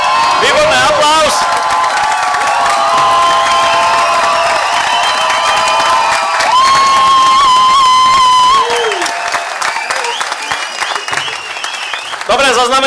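Audience applause and cheering fill a hall at the Jánošíkov dukát folk-dance competition, a loud, dense, sustained wash of clapping with whoops, and a host's voice carries over it.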